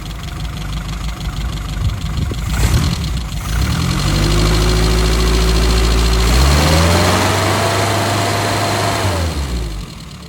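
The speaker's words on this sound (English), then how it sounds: "This is a video of me showing how quickly the engine starts and" A 1967 Austin Mini Moke, a restored utility convertible, cranks and fires up, then settles into a loud, steady idle with a low hum and a rising whine before easing off near the end.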